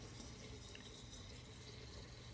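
Vodka is poured in a thin, slow stream over vitex berries in a jar for an herbal tincture, a faint, steady liquid trickle with no talking.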